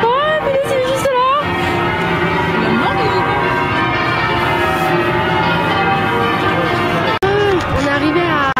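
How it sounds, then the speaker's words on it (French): Church bells of St Paul's Cathedral in London ringing continuously and loudly outdoors, a dense wash of overlapping tolling tones with crowd noise and occasional voices underneath. "désolé si vous entendez les cloches, mais ça fait quoi, 10 minutes qu'elle sonne"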